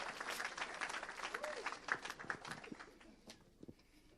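A church congregation applauding in acclaim, a dense burst of clapping that thins and fades over a few seconds, with scattered voices mixed in.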